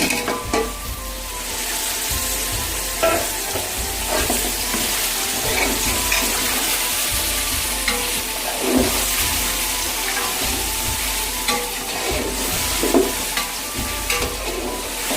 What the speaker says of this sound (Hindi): अब मसाले को अच्छी तरह हमने भूनना है, तकरीबन 5 मिनट भूनना है मसाले को।